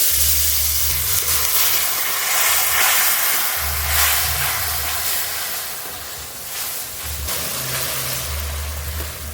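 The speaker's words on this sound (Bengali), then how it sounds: "এবার একটু জল দিয়ে খুব ভালো করে মশলা কষিয়ে নেবো" Spice paste of green chili and turmeric with salt, cooked down with a splash of water in a pan, a loud continuous close sizzle and steamy hiss, with low rumbling stove noise and occasional stirring swells.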